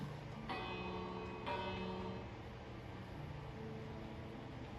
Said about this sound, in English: Ooh, they have a bell.